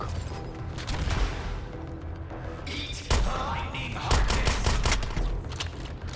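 Loud, dense gunfire erupts in the superhero shooter video game Suicide Squad: Kill the Justice League. Rapid shotgun blasts and heavy thuds pile into a continuous barrage that swells twice, with no voice over it.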